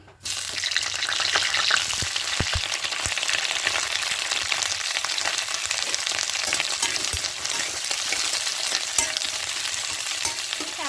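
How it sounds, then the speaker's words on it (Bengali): Cauliflower florets for aloo posto fry lightly in mustard oil in a pan, a dense, even sizzle heard up close with scattered utensil taps and scrapes over the continuous crackle. "প্রথমে ফুলকপিগুলোকে হালকা একটু করে ভেজে নেবো"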